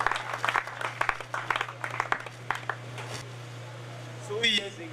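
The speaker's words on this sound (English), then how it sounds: "Please clap for them." Scattered audience clapping at a public event, uneven individual claps over a steady electrical hum, thinning out after a few seconds before a voice speaks at the end.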